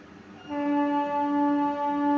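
A train on the Burdwan main line hums steadily, a sustained tonal drone that swells in after a quieter start and holds at an even, moderate level.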